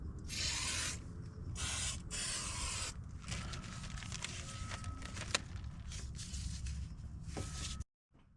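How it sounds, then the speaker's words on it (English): Several hissing bursts of spray glue from an aerosol can, close and steady, followed by quieter rubbing and handling noises before it cuts off. "I'm gonna grab some of this glue and I'm gonna spray it right here"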